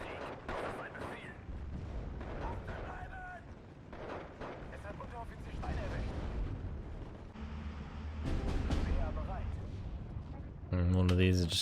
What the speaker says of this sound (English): One of these is just getting mortared to death.